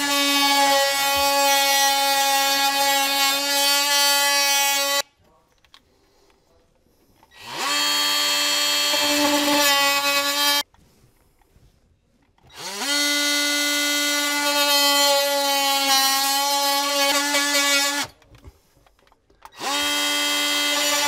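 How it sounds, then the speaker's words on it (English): A Ryobi oscillating multi-tool cuts a hole in drywall, its loud buzzing drone coming in three long bursts separated by short pauses. "I'm going to use my Ryobi. It's an oscillating tool, and that should be able to cut that hole out nice in the drywall"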